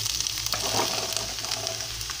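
Pieces of bottle gourd for a tomato curry drop into a hot pan and sizzle steadily, a close, continuous frying hiss with light stirring scrapes and no talk.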